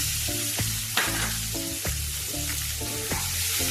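Onions frying in hot oil for a Bengali fish posto, a continuous close sizzle with repeated stirring scrapes and clinks throughout.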